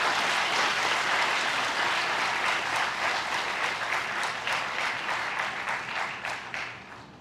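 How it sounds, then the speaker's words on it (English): A university audience at a National Science Day celebration claps loudly in a dense, sustained burst that slowly thins and fades toward the end. "You can clap loudly."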